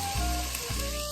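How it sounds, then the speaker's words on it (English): Onions caramelizing with wine in a pan give a loud, continuous sizzle and hiss with a brief surge of bubbling partway through, heard alone. "Wine and onions go together, and we caramelize them with"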